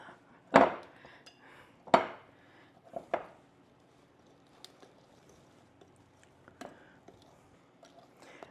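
Flour being gently mixed into an apple fritter bread batter in a bowl, with a few soft clinks and knocks of a utensil against the bowl followed by quieter scraping.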